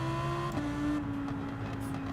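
A race car in Gran Turismo 7 accelerates at full throttle, a fairly quiet engine tone climbing then holding steady with a gear-change step partway through, no voices.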